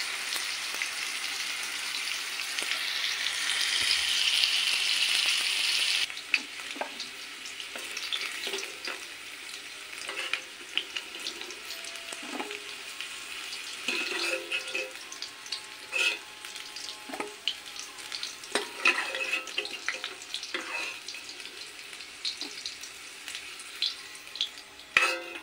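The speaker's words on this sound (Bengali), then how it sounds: "আলুটা আমি লাল লাল করে ভেজে নেব।" Potatoes fry in oil until reddish-brown, a continuous close sizzle broken by repeated scrapes and clinks of stirring, with no one speaking.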